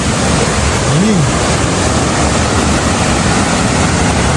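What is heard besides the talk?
waterfall rushing water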